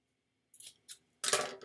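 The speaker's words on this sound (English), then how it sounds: "cut the ends of the ribbons" Scissors snip the ends of gift ribbons on a wrapped present: two quick, light cuts followed by a louder, longer crisp snip, close and quiet with no voices.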